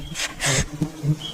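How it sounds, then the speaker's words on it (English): Short bursts of bee buzzing from a swarm rise and fall several times, close and fairly loud, like bees darting past. "Oh my gosh, there's so many bees."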